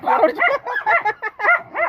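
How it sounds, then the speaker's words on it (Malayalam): Several farm dogs bark and yip in quick repeated bursts close by, with short gaps between the yelps over a couple of seconds. "നായകളാണ് അതാ അവിടെ നായകള് ഒക്കെ നായകളാട്ടാ"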